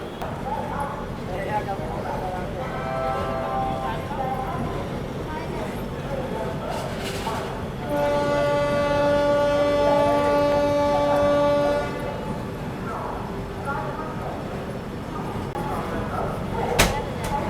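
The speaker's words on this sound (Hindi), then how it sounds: "बस 2 ही मिनट के हॉल्ट के बाद हमारा डिपार्चर भी हो गया है अलीगढ़ जंक्शन से" The Kanpur Shatabdi train departs Aligarh Junction after a halt: a steady rumble of rolling carriages, a sustained horn blast of about four seconds midway, and people talking over it.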